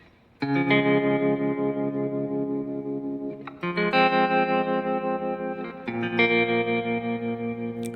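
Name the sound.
synth with tremolo effect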